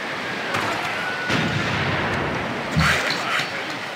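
A unit firing in Civilization V: booming artillery-like shots, a few heavy blasts spread over a few seconds with a rumbling tail, under faint talk.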